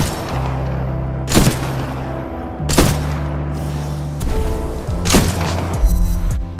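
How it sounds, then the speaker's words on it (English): Guns firing on a shooting range in the video game Titanfall 2, with four heavy, booming shots spaced about a second apart over a steady low hum of game ambience. "I still had to shoot a few bullets nonetheless."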